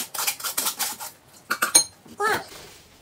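Spoon stirring Filipino fruit salad with sago, cheese and milk in a bowl, giving a run of quick clinks and scrapes of utensil against the dish, loud and close, in short bursts with pauses.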